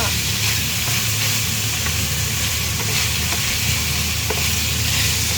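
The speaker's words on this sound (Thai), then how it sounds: "ผัดให้หอมนะคะ เดี๋ยวใช้ไฟแรงนิดนึงแล้วก็" Pork stir-fries in a pan over high heat, giving a steady loud sizzle with a constant hiss of frying and faint scraping from stirring throughout, with no talking.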